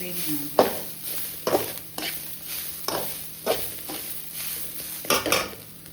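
Food fries in a pan with a low sizzle, punctuated by about six sharp clattering stirs at irregular intervals, close up.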